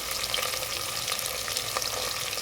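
Onions and potatoes fry in hot oil in a pan for a paneer cashew vegetable pulao, giving a dense, steady sizzle that holds close and even throughout, with faint stirring crackles and no voices.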